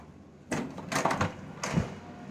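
A hotel bathroom door is tried and opened: a few close knocks and rattles of the handle or latch come in short bursts, then a final clunk, with no one speaking.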